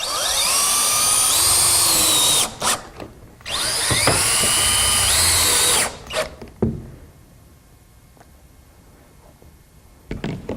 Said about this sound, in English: I'm using a SSR1 pan screw, and I'll be installing these screws about every 12 inches apart.